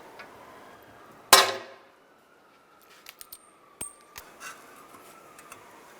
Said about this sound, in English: we're going to use a rivet.